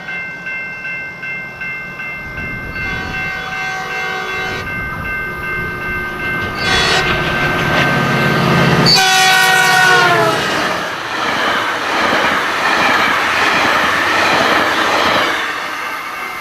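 A Nathan P2 horn on a Metrolink MP36 diesel locomotive in a train simulator sounds in several long chord blasts, loud and close, over rolling wheel clatter and some squealing, with no voices.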